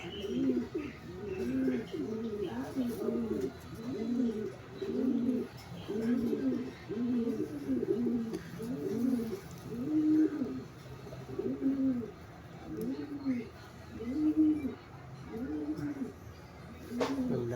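Pigeons coo in a steady, repeating series of low, rolling calls, close and fairly loud, continuing throughout with brief gaps between phrases.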